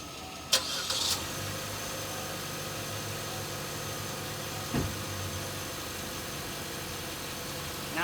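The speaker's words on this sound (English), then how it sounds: "You're just going to turn the dead car over." A dead car engine turning over and catching after a jump start with jumper cables, a short crank burst near the start settling into a steady idle rumble that runs throughout, with a brief second surge later.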